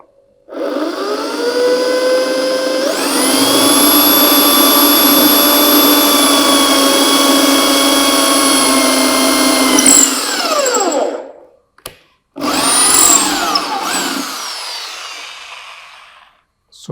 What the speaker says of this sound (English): So that's the drilling that we did.